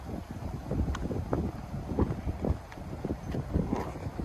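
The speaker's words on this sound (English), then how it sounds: "Nice and windy." Gusty wind buffets the microphone in uneven bursts beside a lake, with soft lapping and knocking sounds from choppy water nearby.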